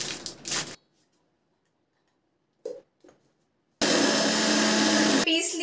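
Biscuits are ground in a kitchen mixer grinder. A loud, steady roaring whir runs for about a second and a half near the end and then cuts off, after short bursts of handling noise and near silence.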